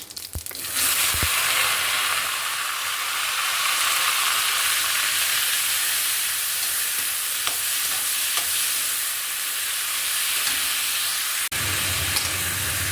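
Finely chopped onion dropped into hot oil with a bay leaf and whole spices, bursting into a loud, close, continuous sizzle and hiss, with occasional clinks of a stirring spoon against the pan.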